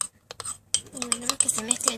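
Spoon clinking and scraping against a bowl while stirring microwave cake batter, with quick irregular taps and rattles up close, fairly quiet, with a voice talking briefly.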